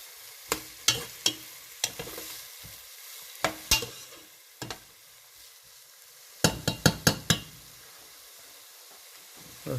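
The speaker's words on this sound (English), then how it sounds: "we're going to add our fresh garlic. All right. We're going to give that a little stir up" Fresh garlic stirred in a cooking pot for vegan jambalaya, with sharp utensil scrapes and clicks in irregular bursts, a quick cluster near the end, over a faint steady sizzle.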